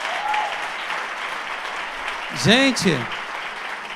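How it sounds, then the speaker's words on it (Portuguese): A church congregation applauds through a celebration service, steady broadband clapping filling the room while a voice briefly speaks over it near the end. "Você pode aplaudir Jesus?"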